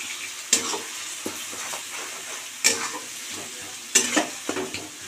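Onion, ginger and garlic paste frying and being stirred in a pan for Bengali chicken curry, a steady low sizzle broken by a few sharp spoon scrapes and clanks against the pan, with no talking.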